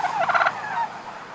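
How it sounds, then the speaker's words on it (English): A turkey gobbles once, a quick warbling burst followed by a fainter trailing call against quiet outdoor background on a turkey farm. "these farm-fresh turkeys are ready to be gobbled"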